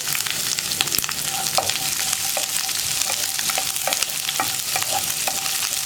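Sliced onion and split green chili frying in a hot pan, a loud, dense, continuous sizzle with frequent light spatula scrapes and clicks, close up and uninterrupted by talk.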